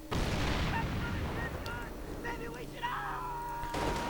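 Gunfire and artillery from a WWII strategy game, with a StuG assault gun charging an anti-tank gun: a heavy blast opens, followed by scattered bursts and rumbling battle noise under a commentator's voice.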